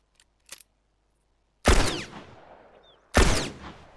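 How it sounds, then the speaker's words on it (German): Two loud gunshots in The Last of Us Remastered, a couple of seconds apart, each with a crisp crack and a lingering echo, after a few faint clicks in near silence. "Schön zwei Schüsse vergeudet."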